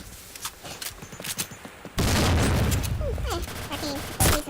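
Gunfire in the online shooter Point Blank: a string of sharp shots, then a dense burst of rapid fire with clattering and a final loud shot, heard near and loud, with a voice talking over the game.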